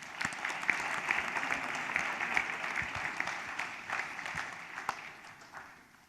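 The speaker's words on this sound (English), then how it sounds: "big round of applause" An audience at a business talk on start-ups gives a big round of applause. The clapping is steady and moderately loud, mixing many hands, holds for about six seconds and then eases off.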